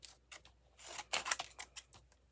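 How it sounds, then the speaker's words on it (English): Small scissors cutting out printed cardstock, a quick run of close, crisp snips and rustles in uneven rhythm against a quiet background. "We'll cut these 4 out."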